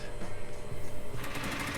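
A sewing machine stitches a seam on a double welt pocket, a close, loud, fast mechanical whirring with the needle's rhythmic pulse, alone without talk.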